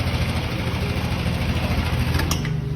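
A Yamaha Aerox scooter engine runs close by in a steady, even idle-like drone for the whole stretch, with no clear rise in revs and no talking.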